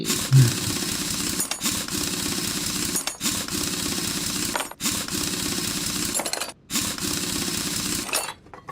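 Mechanical clatter of damaged brake pads being removed in the Car Mechanic Simulator game, a steady busy run of clanks and tool noise broken by brief gaps, fairly loud throughout.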